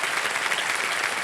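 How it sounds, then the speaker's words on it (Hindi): Dense, steady applause from a KBC game show studio audience cheering a winner, a continuous close wash of clapping with no pause. "ताली बजते रहे इनके लिए।"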